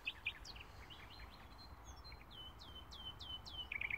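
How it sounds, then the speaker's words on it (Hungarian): Nightingale and blackbird singing outdoors, bright whistled phrases and quick chirps repeating over a steady hiss of background noise. "Fülemüle, Rigó."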